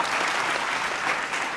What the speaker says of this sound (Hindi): एक बार दोनों के लिए तालियां बजा दो जरा।